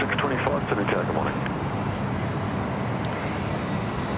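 A passenger plane takes off at Sydney Airport, a loud, steady broadband roar that holds for about four seconds, with faint voices beneath it.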